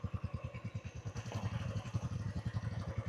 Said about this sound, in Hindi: ये हमारी बाइकें खड़ी हुई हैं तीनों, कोल्ड स्टार्ट कर रखी है।